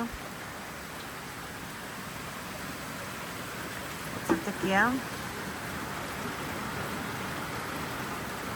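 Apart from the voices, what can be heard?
rain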